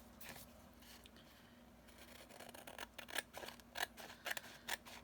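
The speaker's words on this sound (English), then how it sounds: "glue it down, and then just trim" Scissors snipping glued paper for a junk journal, a run of short, crisp cuts coming faster and closer together toward the end, quiet and close against a low electrical hum.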